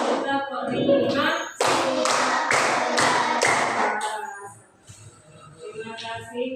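Primary school class of fifth graders clapping together in rhythmic patterns, loud and close, with bursts of sharp claps counted out in sequence, a voice calling out between rounds, then fading to scattered movement and murmurs.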